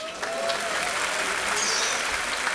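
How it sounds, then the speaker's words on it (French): Sustained applause from an audience at a marathon awards ceremony, a dense, steady wash of many hands clapping at even loudness throughout, with no break. "sous vos applaudissements, mesdames, messieurs"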